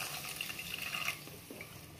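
Water poured into a methi leaves curry mixture, a steady close splashing and trickling stream running for about two seconds with no voices.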